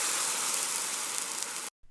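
Garlic and onions hitting hot oil in a pan, a bright continuous sizzle close up that cuts off abruptly near the end.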